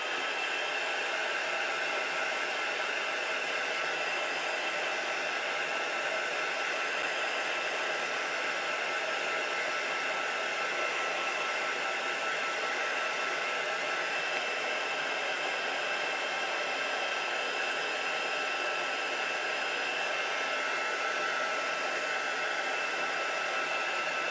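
Heat tool blowing hot air to melt embossing powder, a steady, even rushing whir with no break for the whole stretch, moderately loud and with no voices.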